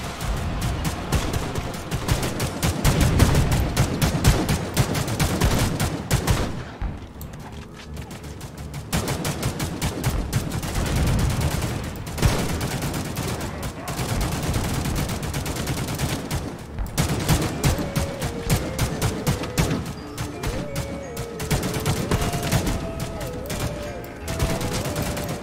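Sniper rifle fire during a battle in the video game The Mean Greens, with sharp shots cracking repeatedly over a busy, constant din of game combat, loud and nearly unbroken throughout.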